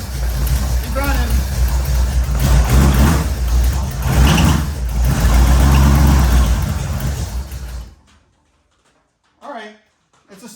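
A V8 engine swapped into a Ford Pinto runs loud and rough, surging and revving for several seconds before cutting out, with people talking over it and a brief sound after it stops.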